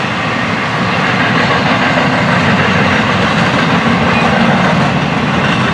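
A freight train carrying containers rolls past leaving a work zone, a loud, steady rumble of wheels and wagons close by with continuous clatter as it picks up speed.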